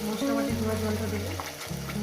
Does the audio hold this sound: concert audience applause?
no